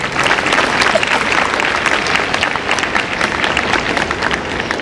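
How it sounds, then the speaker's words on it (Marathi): Sustained applause from an audience honoring students at a Republic Day school event, dense overlapping claps filling the whole stretch at steady loud level, slightly easing toward the end with no voices over it. "या विद्यार्थी मित्रांचं खास आपण तो टाळ्या वाजून कौतुक करूया"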